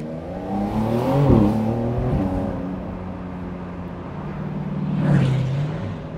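Porsche 911 992 Carrera S with a six-cylinder engine pulling hard under acceleration, heard from inside as a loud, rising engine note with gear-change dips, followed by a steady cruise and a second surge.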